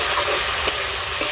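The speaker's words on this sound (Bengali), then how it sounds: "লঙ্কার গুঁড়ো, সামান্য পরিমাণে জল দেবো, দিয়ে মশলাটা ভালো করে কষিয়ে নেবো।" Spice masala with chili powder, sugar and a splash of water fries in a pan as it is stirred for chicken kosha, giving a dense, continuous close sizzle with faint scraping and no talk.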